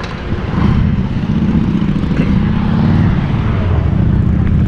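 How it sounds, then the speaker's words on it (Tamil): A camera drone flies overhead above a scenic road entering Nagercoil, its steady loud whirring drone filling the clip without a break, with no voices heard. "மேலே ட்ரோன் பறந்துட்டுருக்கு பாருங்கள், ட்ரோனில் எடுக்கிறாங்க பாருங்கள்."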